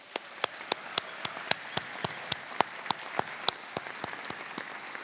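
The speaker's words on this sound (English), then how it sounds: "Please join me in applause." Audience applause at a dental school white coat ceremony, steady crowd clapping with one pair of hands close by landing sharp, rhythmic claps over the softer wash.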